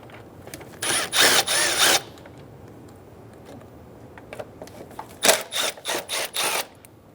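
An 8mm socket ratchet turns out the air box bolts on a 2003-2008 Honda Pilot: two close bursts of quick, dry clicking, the second broken into several short strokes, with quiet gaps between and no talk.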